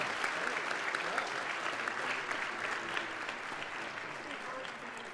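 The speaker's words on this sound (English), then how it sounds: "So give yourselves an initial round of applause." A large convention crowd at a furry fandom closing ceremony claps steadily and densely for several seconds, a broad sustained wash of applause that tapers slightly near the end.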